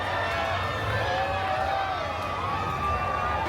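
A New Orleans Mardi Gras street crowd at a Krewe of Hermes parade calls out and cheers as float riders toss golden doubloons, a steady wash of voices with shouts and whistles rising above it.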